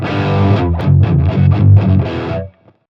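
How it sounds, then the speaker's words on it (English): Heavily distorted high-gain electric guitar plays a short chopped riff of loud, gritty chords for about two and a half seconds, then cuts to silence. "I would say distorted tone would be one with distortion. High gain, same thing."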